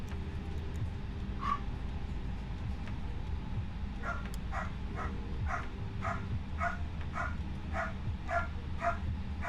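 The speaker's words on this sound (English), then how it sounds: "Sorry about my dog, guys." A dog barks repeatedly in a steady series of sharp, mid-loud barks, starting with a single yip and then a rapid run of barks, over a constant low hum of a flight simulator setup.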